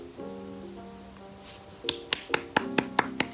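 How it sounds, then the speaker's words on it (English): About eight sharp hand claps come in a quick, even rhythm, close and crisp, following a brief soft musical tone. "I can only clap hands, bro."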